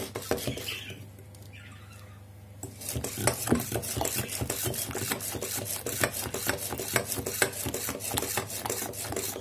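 Batter for a spinach cake being whisked with a cup of sugar in a bowl: quiet for the first few seconds, then steady rapid scraping and tapping strokes against the bowl, close and fairly loud, with no talking.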